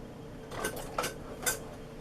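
Bread dough being mixed in a bowl with a plastic utensil, giving three soft, evenly spaced scraping knocks over a quiet background.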